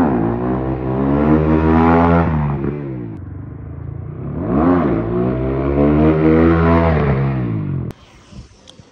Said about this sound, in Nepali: मिठो हान्ने भएछ यो बाइक राम्रो भएर होला